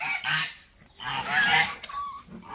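Several farm geese near a country homestead honk and chatter close by in two loud bursts with a short lull between. Harsh, nasal calls overlap one another and end with a few softer honks.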